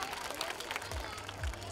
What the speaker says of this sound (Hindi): एक बार जोरदार तालियां बजाएं उनके लिए।